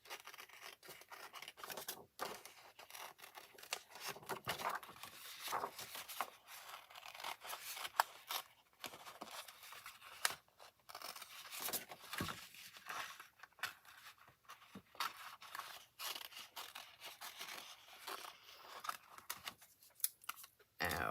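Scissors cut out paper reindeer shapes, giving quiet, close snips and crisp paper rustles in an irregular rhythm that runs throughout.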